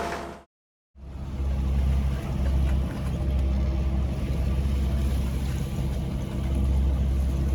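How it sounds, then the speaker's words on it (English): A sailboat motoring at sea on engine power in light wind gives a steady, loud low drone with a dense rumble, broken by a brief dropout near the start. "The wind is just not as we expected. It's much less than what we wanted, which means we've been motoring for so long."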